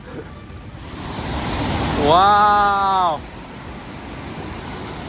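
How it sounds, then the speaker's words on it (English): Broadband rushing water from a waterfall beside a bridge in Labrador, Canada, a steady loud roar throughout, with a person briefly exclaiming over it midway. "And this one actually has the weird waterfall."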